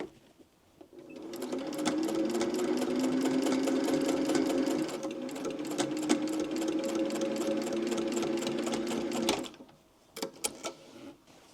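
A sewing machine stitching fabric on a pair of kids' pants runs in a fast steady whir for several seconds, stops briefly, then gives a few short bursts at the end, close and clear.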